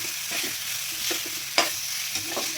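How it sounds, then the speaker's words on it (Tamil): Onions and chopped small tomatoes sauté in a pan for Thanjavur-style goat intestine kootu, with a steady close sizzle broken by soft stirring scrapes and clicks of the spoon against the pan. "நல்லா வதங்கி வந்ததுக்கப்புறம் கட் பண்ணி வச்சுருக்க தக்காளியை அதோடு சேர்த்துக்கணும்"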